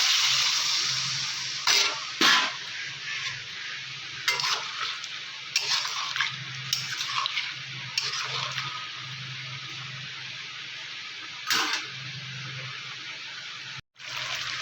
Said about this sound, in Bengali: কষানো হয়ে গেছে, খানিকটা জল অ্যাড করবো